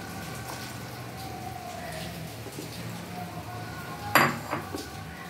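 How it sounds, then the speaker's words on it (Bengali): Fried paneer pieces dropped into a kadai of simmering milk, a soft steady bubbling bed broken by a sharp metallic clink of a spoon against the pan near the end, close and alone. "এবার আমরা এর মধ্যে পনির যেটা ভেজে রেখেছিলাম সেই ভাজা পনিরগুলো দিয়ে দিচ্ছি"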